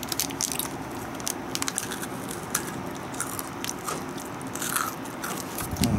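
A child bites and chews a crunchy Yo-kai Watch Jibanyan chocolate crunch bar, eaten cold, with close, steady crackly crunching and scraping bites throughout and no talk.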